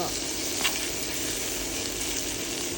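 Bamboo shoots with plenty of chili stir-fry in a pan, giving a steady, close hissing sizzle that does not let up, with a brief scrape of stirring.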